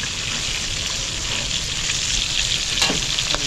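Oil spits and crackles steadily in a pan, a broad hissing sizzle that holds for a few seconds, with a brief clatter near the end.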